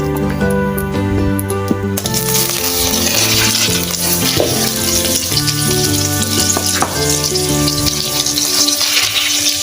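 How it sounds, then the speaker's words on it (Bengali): A generous amount of butter hits a hot wok and breaks into a loud, steady sizzle about two seconds in, crackling continuously under background music. "কড়াইতে এখন বেশি করে বাটার দিয়ে দেবো।"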